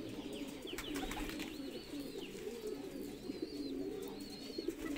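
Shirazi pigeons coo softly and repeatedly at a breeding setup, their low throaty calls layered over each other along with a few higher chirps, with faint background noise throughout.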